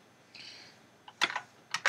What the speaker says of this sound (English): Just type with the keyboard.